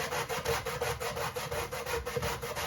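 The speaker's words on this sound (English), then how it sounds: "So now I'm going to grate on this side." Cassava being grated by hand on a metal grater, a steady rhythmic rasping of root against sharp teeth, repeated strokes roughly every quarter second, close and fairly loud with no talking.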